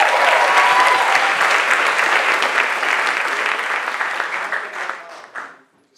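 Enthusiastic audience applause at a conference panel event, dense clapping that holds steady for several seconds before fading out to silence.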